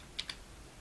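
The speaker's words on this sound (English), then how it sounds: "hit the delete key on my keyboard" A computer keyboard's delete key pressed during image editing, giving two quick, quiet clicks about a tenth of a second apart against a faint room background.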